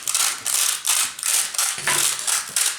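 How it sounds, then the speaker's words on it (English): Sandpaper is rubbed back and forth in quick, loud rasping strokes, about six in three seconds, close and alone with no talk. "you can hear the sand rubbing against each other"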